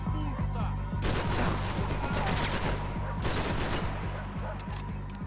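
Gunfire in the video game Max Payne 3 crackles in rapid, sustained bursts of overlapping shots, fairly loud and continuous, with brief speech underneath.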